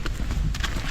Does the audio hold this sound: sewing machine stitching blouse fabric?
no